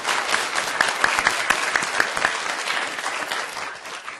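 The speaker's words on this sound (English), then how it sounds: "Round of applause." An audience at the final round of a moot court competition gives a round of applause, a dense, steady patter of many hands clapping that carries on evenly and tapers slightly at the end.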